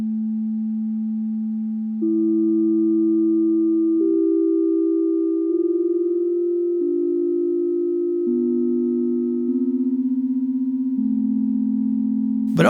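A granular synthesizer sample played chromatically on a GR Mega engine sampler: steady sustained tones stepping through a series of pitches every couple of seconds, loud and clean with no talking.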